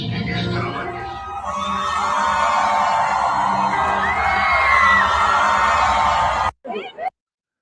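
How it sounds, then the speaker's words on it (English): A large crowd cheers and whoops with shouts and yells rising over a dense roar, sustained and loud, then cutting off abruptly near the end before a couple of brief bursts. "I'm sure they didn't add any crowd noise there."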